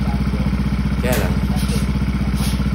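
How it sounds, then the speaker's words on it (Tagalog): A stock-engine Yamaha Nmax V2 scooter fitted with a 135cc racing injector runs with a steady, loud, close-up pulsing idle. The engine chugs unevenly with a brief clatter partway through, the faulty injector making it misfire. "Kaya palyado, nabubugang at hindi na makabatang itong motor na ito."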